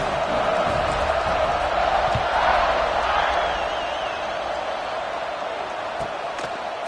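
Stadium crowd noise at a kickoff in the College Football 26 video game: a continuous broad roar that swells slightly in the middle, then settles, with faint voices mixed into the din.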